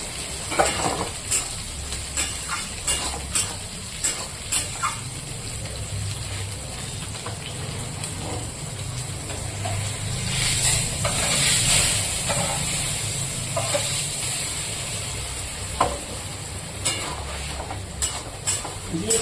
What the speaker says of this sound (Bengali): আমি বসিয়ে দিয়েছি শুকনা মাছটা ভাজার জন্য